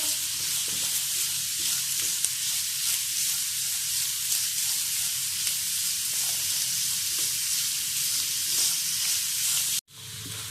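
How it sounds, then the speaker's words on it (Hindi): Leftover bitter gourd peels frying in oil in a pan, a steady close-up hiss and sizzle that holds evenly throughout, with no talking, then cuts off abruptly near the end. "अब हम इसके अंदर जो हमने छिलके बचाए थे वो ऐड करेंगे। इनको हम अच्छे से फ्राई कर लेंगे।"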